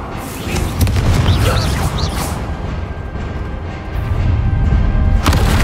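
Confringo explosion spell in the video game Hogwarts Legacy, loud booming blasts with crashing thuds and rumbling, followed by sharp magical impacts, all fairly close.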